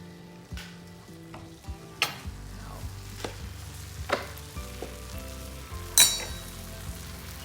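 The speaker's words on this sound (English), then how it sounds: "Hear that sizzle." Food sizzles quietly in a hot cast iron pan, with occasional scraping stirs and clinks of a utensil against metal over a soft frying crackle.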